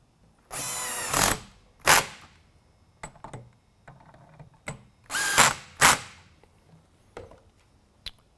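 A power drill drives screws into the end retaining cap of a Federal Signal Navigator LED rotator light bar, several short whirring bursts separated by pauses and small handling clicks, close and alone.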